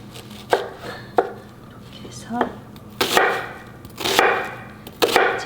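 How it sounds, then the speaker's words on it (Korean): Onion chopped finely with a knife on a board while making summer chonggak radish kimchi, several sharp irregular knife strikes, close and crisp, with someone talking between the cuts. "잘게 썰어 주고요"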